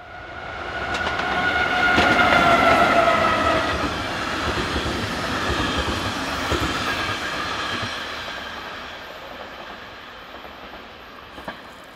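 Locomotive 3006 hauling train 951 from Liège to Luxembourg passes heading south, a loud rumble and wheel noise swelling in the first seconds with a horn-like tone, then fading steadily as it recedes, no voices.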